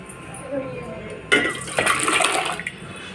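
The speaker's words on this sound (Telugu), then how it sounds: "మరి కొంచెం వాటర్ వేద్దామండి కుక్కర్లో" Water poured into a pressure cooker of dal for pappu charu, a sudden splashing gush that starts midway and runs for over a second, loud and close, with a faint voice before it.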